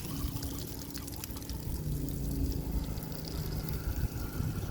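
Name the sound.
water running from RV outside shower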